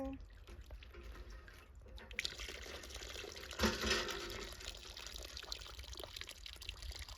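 Water pours into an outdoor pond with a continuous splashing, dripping rush that swells briefly midway and carries on steadily, with faint voices in the background.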